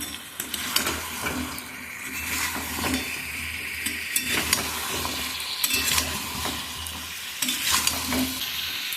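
Spice paste with potatoes being stir-fried for a fish curry: steady frying sizzle with repeated spatula scrapes and knocks against the pan, close and rhythmic, no talking.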